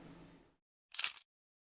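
A single crisp camera shutter click from a stream alert sound effect lands cleanly after a moment of silence, short and bright, following faint background noise.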